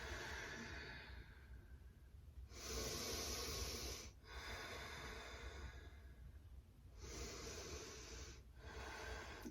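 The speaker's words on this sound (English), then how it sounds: "slow deep breath out" Slow, deep breaths drawn in and let out during a yoga stretch for the legs and hips, each long airy exhale rising then fading, close and fairly loud with no talking.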